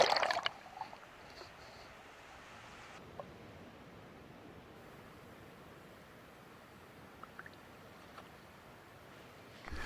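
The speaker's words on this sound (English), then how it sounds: "The tide's rising and waves are just barely entering the tide pool." Small waves wash into a rocky pothole tide pool at the edge of the surf on a rising tide along the Pacific coast, a steady soft broadband rush with a few faint splashes and drips, and a louder surge at the start and end.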